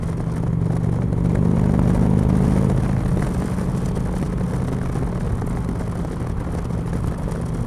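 Indian motorcycle fitted with a Stage 1 exhaust idles with a deep, throaty low rumble, steady and close, swelling slightly early on before settling into an even drone with no talking.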